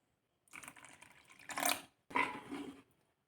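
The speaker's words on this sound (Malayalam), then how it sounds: "വെള്ളം ഒഴിച്ചു കൊടുത്ത് മിക്സ് ചെയ്യാം." Water is poured into thick oats dosa batter and stirred in, heard as two close, short bursts of splashing and sloppy mixing with silence before and after.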